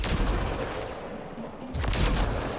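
Sniper rifle shots in Mass Effect: Andromeda, two heavy, booming reports about a second and a half apart over loud, dense combat noise, with no voices.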